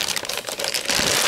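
A plastic bag crinkles on a new SAMLEX SEC-1235M amateur radio power supply, with close, rustling bursts that swell into a fuller scrunch near the end.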